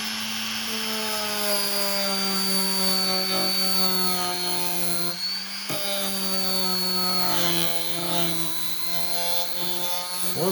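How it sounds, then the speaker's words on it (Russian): A file held against a homemade burr spinning in a rotary drill, giving a loud, continuous whine with a steady grinding rasp and a brief dip partway through, with no talking. "Возьмем напильник, возьмем бормашинку и сейчас подровняем."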